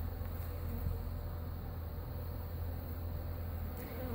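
Honeybees swarm and buzz around a hive cut out of a birdhouse, a dense, steady drone of many insects holding at close range throughout, with no talk over it.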